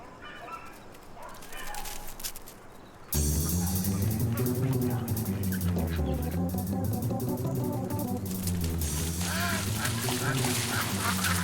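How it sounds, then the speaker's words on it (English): Anxious ducks on a stocked pond quack as a border collie herds them, with loud music filling most of the clip after a brief quieter opening. "Very anxious ducks."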